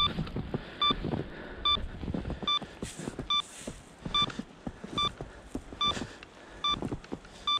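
An avalanche transceiver emits short, regular electronic beeps about once per second, fairly close, over crunching footsteps and gusty wind buffeting the microphone outdoors.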